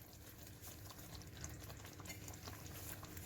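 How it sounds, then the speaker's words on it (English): Tomato chicken slow-simmering in a covered pot gives a faint, steady bubbling with small pops and a soft lid-muffled hiss, continuous and close, with no voices. "I'm going to let it slow simmer cooking"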